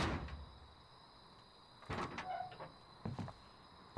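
A door is placed in the survival game Rust, giving a few soft knocks and clunks over a steady hum of game ambience.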